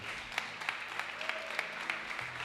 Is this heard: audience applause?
yes